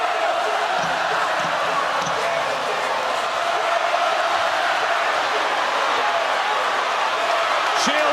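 A large boxing arena crowd roars in a dense, continuous wash of cheering that holds steady throughout, with a commentator's voice faintly present.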